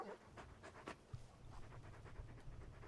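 Torgal, the large dog in Final Fantasy XVI, pants in quick, soft rhythmic breaths close by, with a faint whimpering edge and no talking over it.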